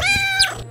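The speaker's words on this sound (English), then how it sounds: "Oh, I can meow." In a video game, a kitten gives one brief, high, tonal meow that rises and trails off, heard on its own.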